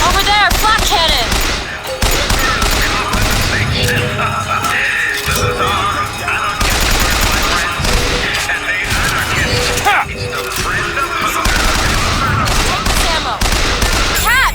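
A flak cannon fires in the video game Bioshock Infinite, giving heavy, continuous rounds of gunfire and mechanical clatter with crashes, while voices call out over the din.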